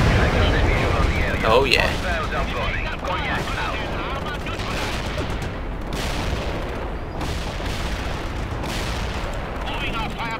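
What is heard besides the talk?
gunfire and artillery in the video game World in Conflict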